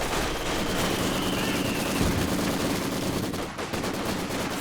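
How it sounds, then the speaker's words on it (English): Machine gun fire in a Company of Heroes 2 4v4 match, rapid continuous bursts rattling densely and loudly throughout, with a brief dip near the end. "this machine gun is suppressing all these troops here as well"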